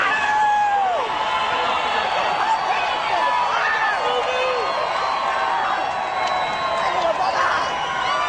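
Racetrack crowd at the Kentucky Derby cheering and clapping for a jockey, a dense continuous roar with whoops and shouts rising above it, loud and sustained throughout.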